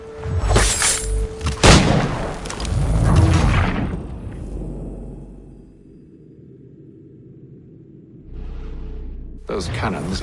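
Cannon fire in Assassin's Creed III, a few heavy booming blasts in quick succession with crackling debris and a long rumbling tail, then quiet, before another loud burst at the end.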